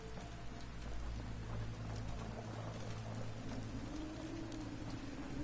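Steady rain falls in the wintry Fallout 4 wasteland, a dense continuous hiss of drops with a low rumbling undertone, no voices.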